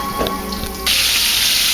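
Meatballs browning in oil in an electric skillet give a loud, steady hiss that swells sharply partway through and holds, with faint background sounds before it.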